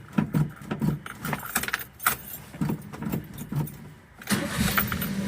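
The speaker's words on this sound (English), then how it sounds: "First key start right there." Carbureted truck engine started with a key: keys jangle close by, then the starter cranks briefly before the engine catches and settles into a steady idle.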